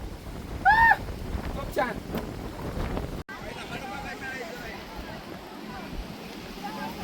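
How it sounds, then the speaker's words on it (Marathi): Steady wind rushes and buffets the microphone outdoors at Shri Nilkantheshwar temple near Pune, with a brief voice near the start, under a constant broadband roar. "वारा बघा वारा बघा"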